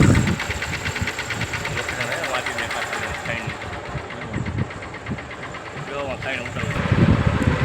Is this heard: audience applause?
no